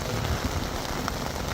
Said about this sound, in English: it's absolutely pouring with rain